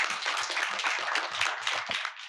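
An audience claps for the session participants, a brisk burst of many hands close by, steady and dense for a couple of seconds, with no talking over it.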